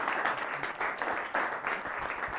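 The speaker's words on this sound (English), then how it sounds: "let's give him a big round of applause once again." An audience applauds together in a steady, dense round of clapping that swells and dips slightly over a couple of seconds, with no speech over it.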